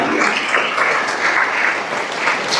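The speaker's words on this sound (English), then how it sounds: "Let's clap for Ian." Graduation ceremony audience clapping steadily for an honored top student, a dense, even wash of many hands that holds at full strength throughout.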